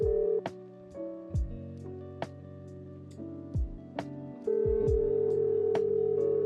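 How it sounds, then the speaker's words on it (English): A mobile phone speed-dialing a number, a series of short electronic tones and clicks followed by a steady ringing tone, heard faint and alone without voices. "Marina tapped Pearl's number on speed dial."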